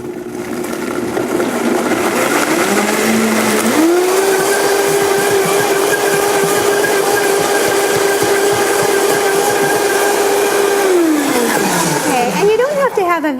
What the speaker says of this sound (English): So I'm just going to blend that.